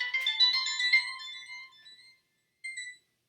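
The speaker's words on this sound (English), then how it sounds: "We got some phone ringing there." A phone ringtone chirps in a bright electronic pattern for about two seconds, pauses, then starts a brief second burst, fairly close and with no talking over it.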